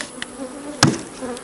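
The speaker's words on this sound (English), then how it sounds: "It's got about 2 frames of bees in there right now." Honey bees buzzing around a hive box during a fall split, a faint steady hum with a few brief louder buzzes as individual bees pass close by.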